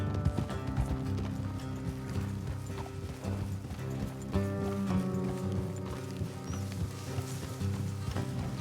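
Horse hooves clip-clop at a steady walking rhythm in Red Dead Redemption 2, with a brief whinny and game music beneath the close, continuous footfalls.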